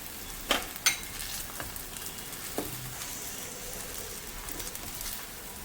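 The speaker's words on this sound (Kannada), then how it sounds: "ಈ ಹಂತದಲ್ಲಿ ನಾವು ಆಲೂಗಡ್ಡೆ ಏನು ನಾವು ಕ್ಯೂಬ್ಸ್ ಮಾಡಿ ಇಟ್ಕೊಂಡಿದ್ದೀವಿ ಅದನ್ನು ಹಾಕ್ತಾಯಿದ್ದೀನಿ" Potato cubes drop into a pan of cooking sabudana upma with two sharp little clatters, then a soft, steady sizzle of frying carries on quietly with no talking.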